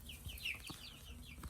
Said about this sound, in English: my dad's just catching chicken